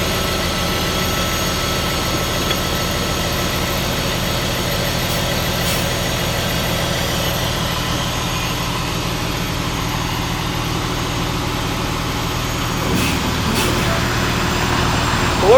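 Fire engine idling at a hydrant: a steady, continuous low diesel rumble that holds level for the whole stretch, close by, with brief faint clicks and a slight swell at the end.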